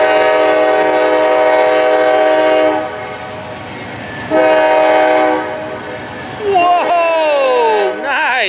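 CSX freight train passing close at ground level on the Hudson and River and Berkshire subdivisions, its horn sounding long sustained chords that stop and restart, then a loud burst of rushing wheel noise and a falling Doppler tone as it goes by.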